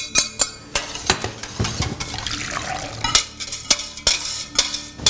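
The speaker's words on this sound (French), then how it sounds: "Donc là, on verse donc dans notre préparation jaune d'œuf et sucre." A cardamom and vanilla crème brûlée mixture is poured into an egg yolk and sugar preparation, with liquid splashing among frequent clattering knocks and clinks of bowls and utensils.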